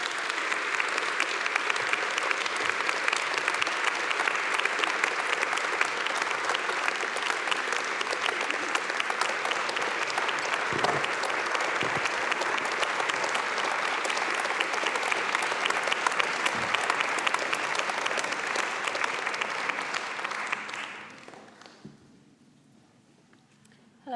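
A salon-series audience applauds author Geraldine Brooks and a musician, a full, sustained round of clapping that holds for about twenty seconds before fading quickly to near silence.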